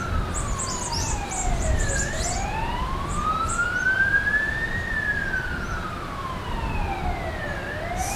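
An emergency vehicle siren sounds outdoors, its wailing tone sweeping steadily up and down over continuous background noise, fairly loud and sustained throughout.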